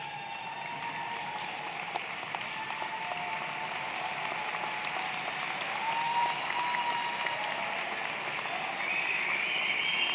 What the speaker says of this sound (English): give a round of applause to all your friends and family who've been part of this journey with you